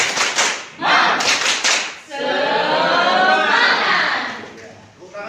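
A classroom group claps hands in a loud burst of rhythmic claps, then keeps up a sustained, dense round of applause close by. Children's voices are mixed in.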